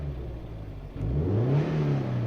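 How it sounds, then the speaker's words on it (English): A turbocharged Toyota GT85 engine, freshly rebuilt with a JUN sump baffle and high-volume oil pump, idles steadily, then revs up sharply and holds a rising, sustained engine note, heard close with no voices. "So now I can rev it and not worry about it going too high press."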